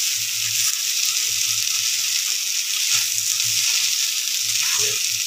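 Sliced potatoes frying in oil in a black wok give a steady, close sizzle throughout, with faint scraping hints of stirring and a low intermittent rumble beneath.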